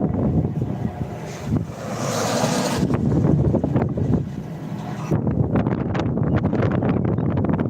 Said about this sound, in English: definitely breezy out here in Pampa, Texas